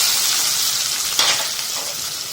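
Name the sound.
onions frying in hot oil with whole spices and curry leaves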